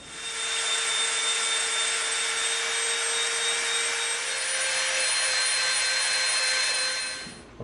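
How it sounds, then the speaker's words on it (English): A Dremel rotary tool trims the edges of EVA foam, giving a steady high-pitched whine with a constant tone that runs almost unbroken before cutting off near the end, with no talking over it. "now we're going to get our Dremel out. We're going to clean off these little edges right here."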